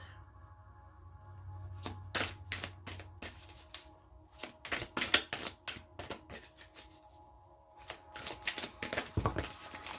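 A deck of tarot cards is shuffled by hand at close range, with repeated crisp riffling bursts and soft slaps in an uneven rhythm, and a faint low hum underneath.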